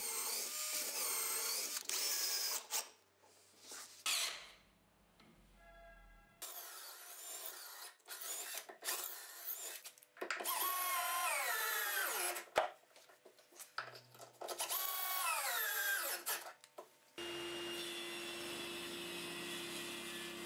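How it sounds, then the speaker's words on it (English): A power drill drives screws into the beech-wood front of a workbench vise, with several loud whirring bursts broken by short gaps and a steady higher-pitched tool run near the end. "I'll also fasten three screws to the front of the piece."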